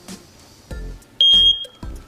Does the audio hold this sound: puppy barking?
no